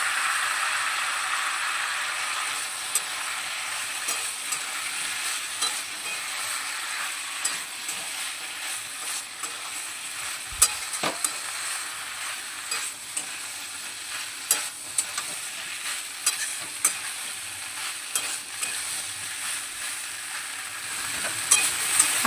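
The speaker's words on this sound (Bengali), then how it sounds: "সবজি এবং মশলাটা খুব ভালোভাবে নেড়ে চেড়ে নেব।" Potato, pointed gourd and soya chunks are stirred with spices in a pan, giving a steady, fairly quiet sizzle broken by irregular scrapes and knocks of the spoon.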